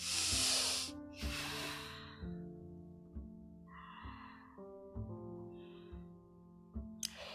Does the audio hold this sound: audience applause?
no